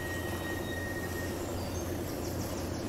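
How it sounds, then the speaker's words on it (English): In Train Simulator Classic, a diesel locomotive runs at full power through Turkey's Taurus Mountains, a constant deep rumble with a faint high whine riding on top, close and unchanging. "Have full power, and Nitz says it sounds like an SD40."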